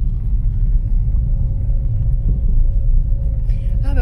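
A car drives along a mountain road in the Aravis and Beaufortain area between Les Saisies and Beaufort, giving a steady, loud low engine and road rumble from inside the cabin with a faint tone above it.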